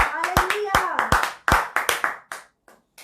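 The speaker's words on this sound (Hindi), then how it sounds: "ताली बजा देना।" Hands clap in a church congregation, several sharp bursts and rhythmic claps overlapping close by, tapering off toward the end, with voices speaking over them.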